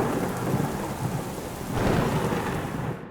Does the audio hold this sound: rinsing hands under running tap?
no